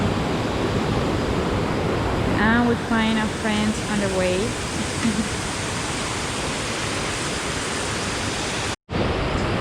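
A jungle river near Minca, Colombia rushes in a broad, steady hiss of flowing water, loud and constant, with a person speaking briefly over it early on.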